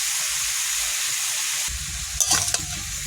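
Spices with salt and turmeric frying in a pan for khichuri, a steady close sizzle with a few scraping stirs of a spoon near the end.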